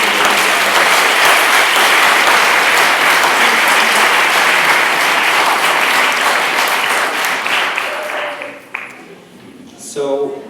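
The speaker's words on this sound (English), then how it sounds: "Could I have just a round of applause for thanking these partners?" A conference audience at Conflict Matters 2015 applauding loudly and continuously, a dense wash of clapping that fades out near the end, followed by a brief sound or voice.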